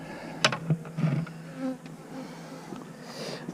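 Faint buzzing of a few honeybees trapped under a hive lid in late November, with a short higher-pitched drone and light clicks over a quiet outdoor background.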